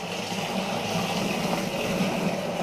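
Water tipped from a height into a beer fermenter for a half-length 40 pint spiced winter ale kit, a steady continuous splashing pour with broadband rushing hiss, alone with no talk.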